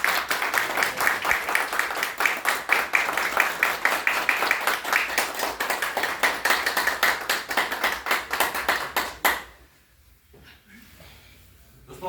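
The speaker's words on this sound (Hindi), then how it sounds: "जोरदार तालियां।" Seminar audience clapping loudly in a hall, a dense sustained applause lasting several seconds before stopping abruptly and leaving quiet room tone.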